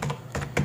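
Keys on a computer keyboard tapped in three quick bursts while a physical address is typed into a Google account recovery form, close and fairly loud with no talk.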